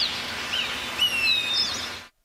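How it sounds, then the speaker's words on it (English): Short whistled calls of an eastern phoebe, a few thin high chirps and slurred notes rising out of a quiet outdoor background, moderately close and heard alone. "That's a Phoebe."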